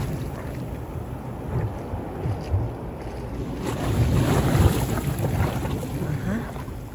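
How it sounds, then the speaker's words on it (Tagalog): Sea water surges and splashes continuously nearby at a night fishing spot in Japan, with wind buffeting the microphone and waves growing louder toward the end. "Malakas yung impact ng tubig dito"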